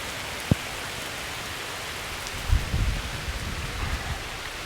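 Rain falling in a thunderstorm, heard from beneath a tree: a steady wash of drops with one sharp knock early on and a louder, rumbling patch of heavier noise in the second half.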